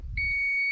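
Electronic reverse-mode warning beep from a TVS iQube electric scooter: a steady high-pitched tone that starts sharply and holds clear and close, with no talk over it.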